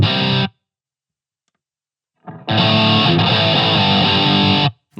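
Distorted, heavily overdriven electric guitar played through a Line 6 Spider V 20 combo amp on the Insane metal preset: a short burst, a pause, then a loud sustained crunchy passage that cuts off abruptly.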